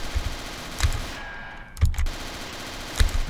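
Gunfire in the shooter game Castle Totenkopf: three separate bursts of rapid shots spaced about a second apart, punchy and close, with a brief metallic whine between them and no voices.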